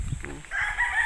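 A rooster crows once in a brief, nearby call, rising into a strained, drawn-out note over faint farmyard background noise.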